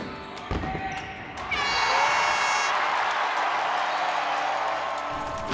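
Fans and families of a college basketball team cheer and applaud in an arena. The roar swells suddenly after a bounce and some thuds, then holds steady and loud.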